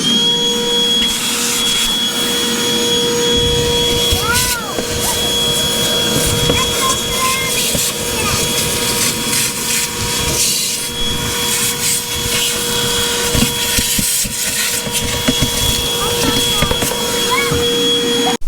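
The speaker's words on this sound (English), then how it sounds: "So I'm going to vacuum this out and put new filters in it." A vacuum cleaner drones steadily and loudly throughout, with scraping and knocking as the nozzle works over a surface.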